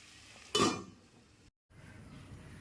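A lid is set down on a pot of roasting clams, giving one quiet metallic clatter that rings briefly and fades into a soft background sizzle.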